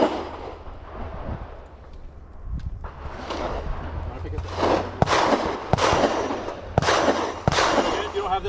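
Rifle shots ring out at an outdoor shooting range, a sparse run of sharp loud cracks growing more regular toward the end, each with a short echoing tail, over a low murmur and faint talk.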